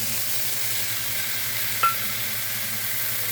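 Okra sautéing in a pan, a constant close hiss and sizzle with one brief sharp clink of a utensil midway, no speech.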